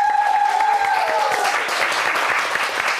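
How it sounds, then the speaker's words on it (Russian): Studio audience applause on a televised quiz show, a dense, steady roar of clapping throughout, with a faint tonal sound at the start. "И сейчас аплодисменты будут греметь все громче и громче"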